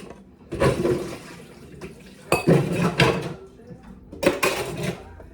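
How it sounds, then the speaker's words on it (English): Pasta noodles are drained into a strainer in a home kitchen: a few loud bursts of clattering pot and metal handling with splashing water, spaced a second or two apart, close up. "So what I'm gonna do is take my noodles. I'm gonna drain them."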